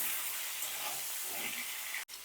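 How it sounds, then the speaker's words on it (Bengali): Cauliflower florets frying in hot oil for a winter vegetable khichuri, giving a steady close sizzle and hiss that cuts off abruptly near the end. "এবার এই তেলেই আমি ফুলকপিগুলো ভাজবো"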